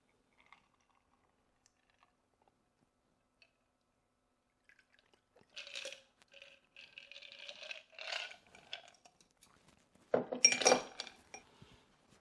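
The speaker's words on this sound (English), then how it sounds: "Now we got our coupe glass, and we're going to strain it in it." A Paper Plane cocktail strained into a coupe glass, heard as faint, close liquid trickles and light glassy clinks that build into a brighter splash and chime near the end, in an otherwise quiet room.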